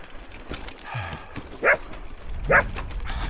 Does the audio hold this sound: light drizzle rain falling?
no